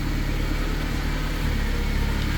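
Cold-started Mazda RX8 with a swapped Honda K24 engine idling, a steady, rough mid-pitched drone with no revving, heard up close.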